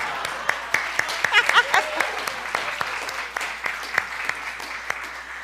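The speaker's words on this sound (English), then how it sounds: "Let's clap a little more." An audience at a church gathering applauds, a dense, steady burst of clapping close by with a few cheers and laughs mixed in.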